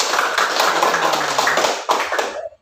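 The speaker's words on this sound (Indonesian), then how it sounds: "tepuk tangan dulu" Students in a classroom clap their hands together in a loud, quick burst of many overlapping claps that fades out after about two seconds.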